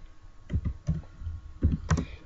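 Typing Python code on a computer keyboard, a few scattered key presses and clicks in small clusters, close and fairly quiet, with no speech.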